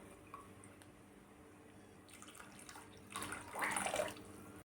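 Water from a mixer jar tipped into a kadhai of village-style spicy chicken curry, heard as a low steady hiss that swells into a close, splashy pour for about a second before easing off.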